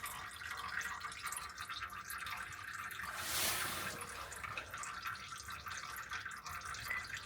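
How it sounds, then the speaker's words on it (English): Engine oil drains from a truck's sump plug in a steady, fairly loud liquid trickle and patter, with a brief swell of splashing about midway, and no voices. "So leaving the oil to drain out the sump plug"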